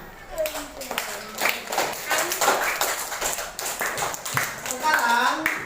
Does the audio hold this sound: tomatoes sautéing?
no